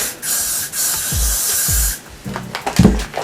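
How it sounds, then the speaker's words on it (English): Several short bursts of Got2b hairspray hiss close by onto the back of the hair, followed by light rustling and handling sounds. "I'm going to take the Got To Be spray and spray it all over the back."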